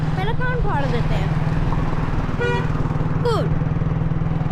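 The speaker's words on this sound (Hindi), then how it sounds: "और ऊपर से बाइक के हॉर्न पहले कान फाड़ देते हैं।" Motorcycle horns honk in a busy Pakistani street over a steady, close engine putter, with a few short toots scattered through the clip and people talking throughout.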